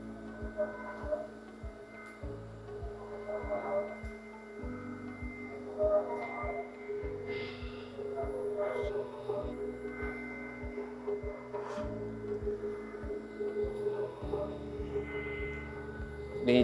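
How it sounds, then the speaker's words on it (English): A Yamato compounding machine presses two sheets of noodle dough through its rollers with a low mechanical hum, steady motor drone and faint rhythmic clicks and knocks. "these two separate sheets of dough are going into the compounding rollers."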